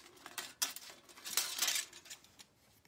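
Thin metal from a Dollar Tree cookie sheet being cut into a heart shape, a string of light, sharp snips and metallic clinks at an uneven pace, close and fairly quiet.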